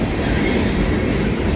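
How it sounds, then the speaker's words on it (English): A big train passes close by, a loud, dense rumble of rolling wheels and rail noise filling the brief moment without a break. "A big train right here."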